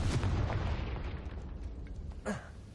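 A Confringo fire spell detonates in Hogwarts Legacy, a single booming blast that rumbles and fades over a couple of seconds, followed by a brief sharp pop, moderately loud game audio with no talking.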